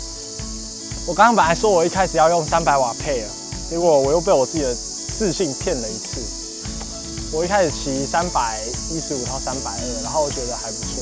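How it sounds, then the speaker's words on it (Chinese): Loud, steady cicada drone filling a hot summer outdoor spot where a cyclist is training, running unbroken throughout while someone talks over it. "你们听到这个蝉叫很大声"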